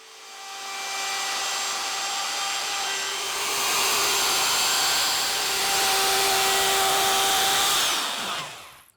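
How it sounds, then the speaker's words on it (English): A power sander smoothing a scrapwood ship's wheel before routing a recess, a loud continuous whirring drone that holds steady for about eight seconds and then winds down. "I'll sand everything back smooth first."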